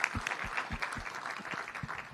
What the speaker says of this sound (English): Let's give a big clap to this Grandmaster.